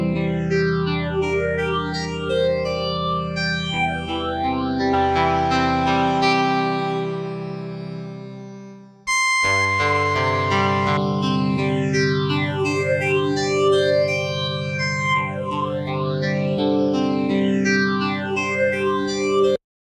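Synth tone runs through two LFO-modulated phasers with heavy feedback, one reversed, producing sweeping, swirling notches over sustained chords; the sound stops briefly midway, then resumes with the same gentle, rhythmic sweeps.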